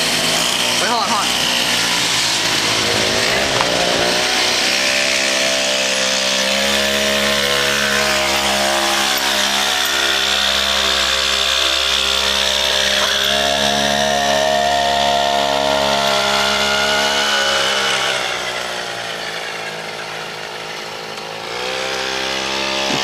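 A small motor drives a homemade Oregon Duck bar stool racer, buzzing loud and steady like a chainsaw as it cruises along and climbs hills. Voices talk over the engine, which eases off slightly near the end.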